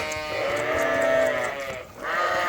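A sheep from a small flock near a barn gives one long, wavering bleat close by, followed by the start of a second call.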